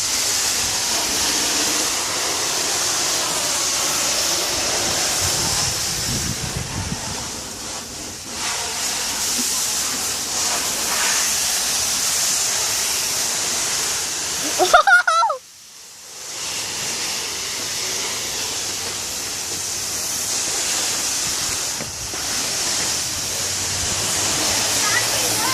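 Steady hissing spray of water rinsing a car during a two bucket car wash, continuous and close, briefly cut off mid-way before resuming, with voices talking over it.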